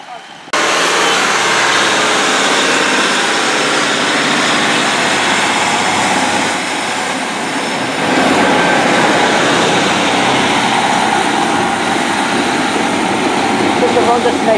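A train on the Cornish main line at Saltash gives a loud, continuous rumble and roar that holds steady throughout and swells slightly partway through.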